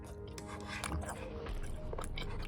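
Crunchy chicken, apple and radish stir-fry being chewed close up, steady crisp bites and mastication running through the whole stretch at a fairly even level.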